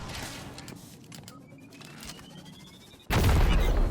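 Rocket launcher firing in Destiny 2: a sudden heavy, loud blast near the end that cuts through quieter gunfire crackle and a rising whine before it.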